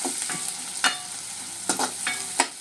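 Onions and chopped green chillies frying in a pan for poha upma, a soft steady sizzle broken by a few sharp scraping stirs of a spatula, close and fairly quiet with no talking.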